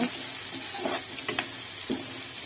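Onions frying in a pan for a potol, potato and shrimp curry, a soft sizzle with a few stirring scrapes and clinks, no talk.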